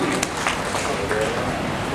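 Steady applause from an audience at a tourism forum ceremony, honoring a speaker, dense and continuous clapping close up without breaks.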